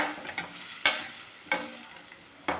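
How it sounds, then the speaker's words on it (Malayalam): A spoon stirs two beaten eggs into a simmering curry in a pan over very low flame, giving soft sizzling with a few sharp scraping clicks against the pan, close up and without talk. "ഇനി ഇതിലേക്കൊരു രണ്ട് മുട്ട ഉടച്ചതാണ് അതും കൂടെ ചേർത്ത് വെച്ച് ഏറ്റവും ലോ ഫ്ലെയിമിലാണ് ഇട്ടിരിക്കുന്നത്"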